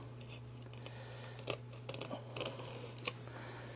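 A knife slicing and tearing through the packaging on a Unihertz 8849 Tank 3 Pro phone box, several brief crisp scraping cuts in quick bursts over a steady low hum.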